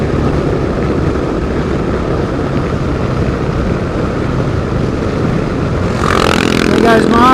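KLR 650 motorcycles pass on an outback road near St George, Queensland: steady loud engine and wind roar throughout, swelling as a bike goes by near the end.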